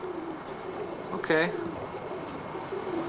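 Roller pigeons coo in a brief, low, throaty burst amid steady loft background noise, with a short spoken word nearby.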